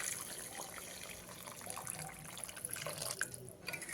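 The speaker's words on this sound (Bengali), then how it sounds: "এবারে এখানে দিয়ে দিচ্ছি পরিমাণ মতো গরম জল" Hot water trickles faintly into a pan of pabda fish curry, a soft, continuous pouring and bubbling heard at low volume with no talking.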